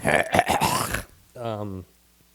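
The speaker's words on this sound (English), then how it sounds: "Stuff doesn't make me burp." A single deep burp follows a burst of speech, a loud, drawn-out voiced belch lasting about half a second and standing alone after the talking stops.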